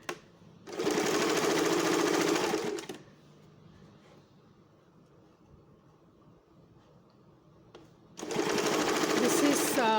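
A home sewing machine stitches a flat fell seam along folded fabric edges. Two loud, steady bursts of whirring stitching, one near the start and one near the end, with a quiet gap between them.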